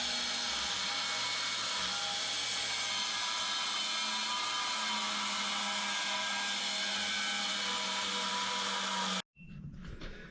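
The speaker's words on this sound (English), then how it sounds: "I just used the cutoff wheel on the grinder" An angle grinder with a cutoff wheel slices steel pieces for an excavator tilt bucket, a loud continuous high-pitched whine that runs unbroken for about nine seconds before cutting off abruptly to quieter background noise.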